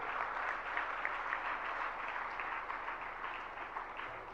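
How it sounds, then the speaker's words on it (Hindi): A seated audience at a Jain religious question-and-answer gathering applauds, a dense steady patter of many hands clapping at moderate distance for several seconds, with no talk over it. "जरा तालियों के साथ अनुमोदना"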